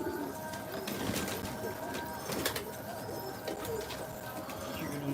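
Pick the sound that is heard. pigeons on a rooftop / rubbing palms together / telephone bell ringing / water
pigeons on a rooftop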